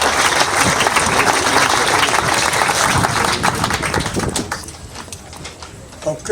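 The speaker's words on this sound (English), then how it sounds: "So a round of applause for them as well." Loud, dense audience applause at an outdoor dedication ceremony for town officials, clapping thinning and tapering off into scattered claps near the end.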